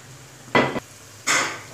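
Garlic ginger paste frying with spices in a karahi is stirred twice, each stroke bringing a short burst of scraping sizzle over a low, quiet background.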